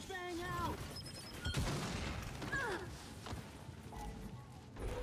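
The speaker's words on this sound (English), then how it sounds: "Flashbang out." A flashbang grenade goes off as a loud, broad burst in a Gears 5 ranked Control match, set within a dense mix of gunfire and game effects.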